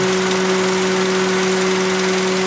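A car engine running rough with a faulty coolant temperature sensor, a steady hum with a constant tonal drone, running continuously and evenly throughout, close and uninterrupted, radiator fan running hard.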